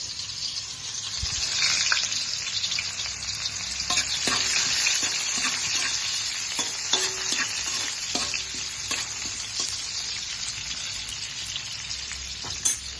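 Onion and garlic sizzle and fry steadily in a pan, with repeated stirring scrapes throughout, close and moderately loud, while adobong kangkong is cooked.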